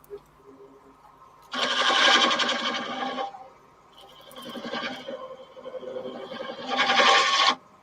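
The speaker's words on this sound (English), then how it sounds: "you just pull the chisel straight back, holding it in that place" A chisel is drawn back across wood by a left-handed worker in three broad rasping strokes, each lasting about a second or two, with short pauses between them. No one speaks.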